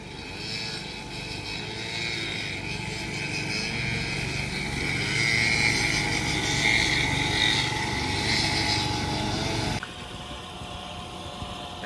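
A verticutting machine lightly working a golf putting green gives a loud, steady mechanical engine drone that holds throughout, then drops abruptly in level near the end.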